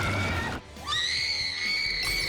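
A young woman's shrill, sustained scream from a horror film scene, loud and close, rising in pitch and holding for more than a second over a brief backing of other sound.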